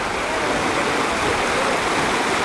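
Mountain river water rushing and foaming white near Kalambaka in Greece, a loud, dense, steady roar of flowing water heard close and alone, with no talking.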